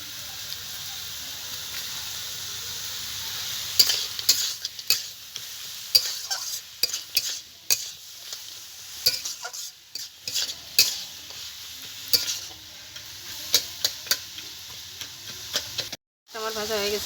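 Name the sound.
stirring frying greens in pan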